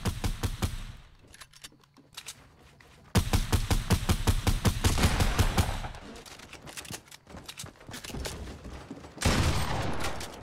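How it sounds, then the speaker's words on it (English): Rapid automatic gunfire in the video game Fortnite Team Rumble, long bursts of fast evenly spaced shots stopping and restarting, loud and close, with quieter distant shots between the bursts. "Who's shooting at me too?"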